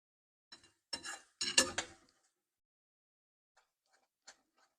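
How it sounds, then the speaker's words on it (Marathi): A spoon stirring mango sheera with ghee in a pan gives a few brief metallic scrapes and clinks in quick bursts, then near silence with a couple of faint taps. "आता मी ह्याच्यामध्ये 1 चमचा परत तूप टाकते आणि परत ह्याला मी छान हलवून घेते आता।"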